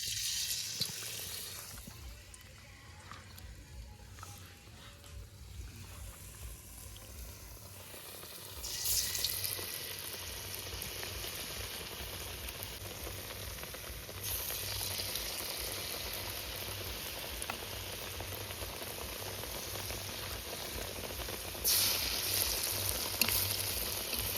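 Brinjal fritters (beguni) frying in hot oil at an outdoor picnic, giving a steady close sizzle that swells louder in places, with a bright hiss running through it.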